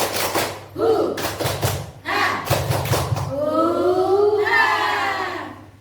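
A standing group of teachers or students performs the rhythmic 'tepuk semangat' clapping chant outdoors on a hot day: bursts of sharp unison claps, then voices chanting together in sung syllables, with a steady hum underneath.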